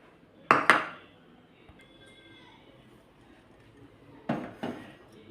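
Warm milk being stirred in a pan on the stove, two sharp metallic clinks of spoon against pan, then a quiet pause, then two more clinks, close and fairly loud.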